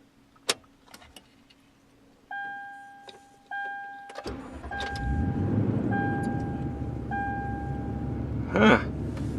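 A Toyota Tundra pickup: a repeating electronic ignition chime sounds first, then the engine cranks and catches into a close, rumbling idle while the chime continues faintly.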